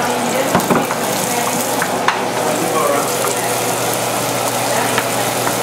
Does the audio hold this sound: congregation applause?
no